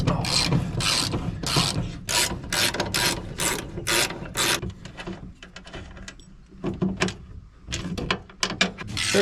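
Hand wrenches ratchet in quick bursts of sharp clicking while working on the nuts of a 1956 GMC 630 fire truck, close and loud, with short pauses between runs.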